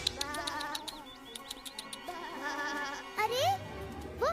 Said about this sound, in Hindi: अरे, वो मेरी भेड़ें हैं।